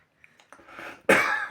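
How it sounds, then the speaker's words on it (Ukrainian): A person coughs indoors, a few soft throat sounds and breaths leading into one sharp, louder cough near the end. "так не кашляй на мене."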